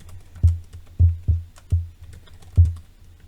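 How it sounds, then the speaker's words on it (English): Keys on a computer keyboard are struck in a slow, uneven run of about six distinct, close, fairly loud clacks with brief pauses between, no voices. "Let's try typing shock collar."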